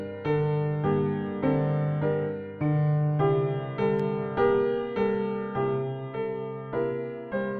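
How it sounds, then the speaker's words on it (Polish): Piano playing a slow sequence of struck chords and notes, each attack decaying before the next, about a dozen strikes at a steady moderate pace, close and clear with no voices. "To pianino."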